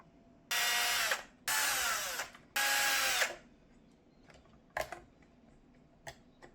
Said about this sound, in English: I'll take out these screws